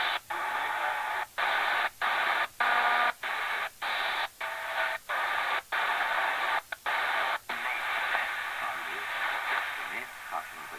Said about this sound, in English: that 13 megahertz is just full of noise